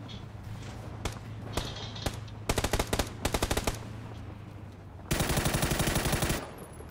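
UMP gunfire in a video game, heard as bursts of rapid, loud shots: short rattling volleys in the middle and then a longer sustained burst, over a steady background hum with faint thuds between.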